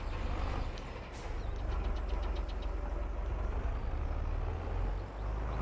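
A tractor engine in Farming Simulator 22 runs with a steady low diesel rumble and knocking throb, with a few faint mechanical clicks and a brief hiss, continuous and close with no talk.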